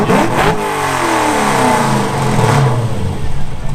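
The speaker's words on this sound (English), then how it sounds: "Give him a little limiter slap here, Marcus." An LS-engined Datsun with a dog box revs hard in repeated bursts, bouncing off its limiter, loud and close with no talking.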